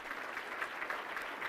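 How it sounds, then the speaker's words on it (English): A seated crowd at a teacher-of-the-year ceremony claps steadily, a dense even patter of many hands heard from the room, with no talking over it. "how about another round of applause for Corey?"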